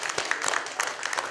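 Students in a classroom clap together in a dense, steady patter of many hands, fairly close and continuous for a moment, with no voices over it.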